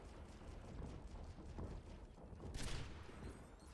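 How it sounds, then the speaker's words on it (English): Gunfire from the sniper Widowmaker in the video game Overwatch, faint, with a dense rattle of shots and a sharper burst near the end. "We're going to shoot him right out of that."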